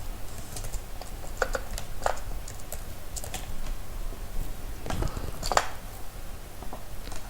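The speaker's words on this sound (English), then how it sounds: "So after typing the name" Quick, uneven taps of typing on a computer keyboard, soft clicks in short bursts with brief pauses, close by.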